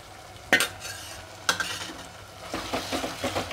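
Ginger paste stirred into cooked onion and tomato in an oiled pan, with two sharp clacks of the spoon on the pan followed by soft sizzling and rhythmic stirring, close and without talk.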